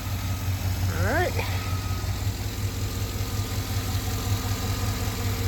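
A Chevrolet Avalanche 5.3 V8 idles smoothly and steadily with a low, even rumble, while a brief high chirping sound rises and falls near the start.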